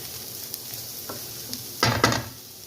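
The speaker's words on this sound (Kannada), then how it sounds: "ಇದು ಇವಾಗ ಚೆನ್ನಾಗಿ ಫ್ರೈ ಆಗಬೇಕು ಜಾಸ್ತಿ ಉರಿ ಇಟ್ಕೊಂಡೆ ಬೇಯಿಸ್ಕೊಳ್ಳಿ" Bitter gourd and onion fry in a pan over high heat with a low, quiet sizzle, broken by a few scrapes and two louder stirring clatters near the end.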